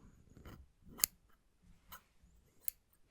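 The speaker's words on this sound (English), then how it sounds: "I just signed for a new pair of manicure styling scissors" Sharp new manicure styling scissors snip in a quiet setting during a virtual haircut role-play: three crisp, close metallic snips spaced across the moment, with soft handling rustle between them.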